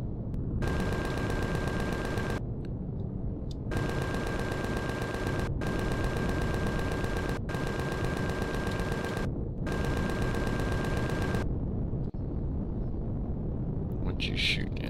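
Sustained automatic gunfire in Empyrion roars in long rapid bursts separated by short pauses, loud and close, with a voice speaking near the end.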